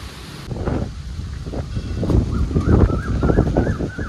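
Gusty storm wind blowing steadily beside a village pond before rain, a broad rushing roar that swells and dips, with faint rustling and a few distant high bird-like calls over it.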